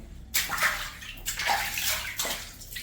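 A hotel shower runs steadily with a blocked drain, giving a continuous close hiss and splash of falling water that swells and sloshes slightly.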